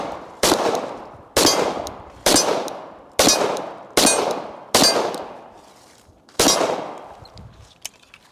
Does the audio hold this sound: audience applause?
no